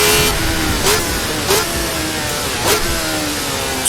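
A 1970 race car in Assetto Corsa, the RSS 1970, revs loudly and steadily, with three sharp upshift blips spaced about a second apart and no voices over it.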